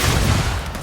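A grenade explodes during Starfield gunfight combat, a loud, dense blast that fills nearly a second with rumbling, crackling noise before starting to fade.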